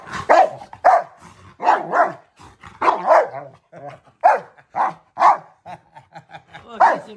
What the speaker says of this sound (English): Is Reggie being blowy? Is he poofing?